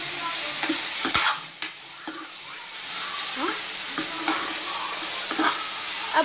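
Ginger garlic paste frying in hot oil, a loud continuous hissing sizzle that dips briefly and then surges back, with light stirring scrapes scattered through it, close up and without speech.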